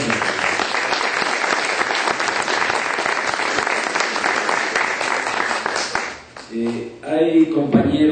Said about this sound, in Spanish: pido para todos ellos un aplauso generoso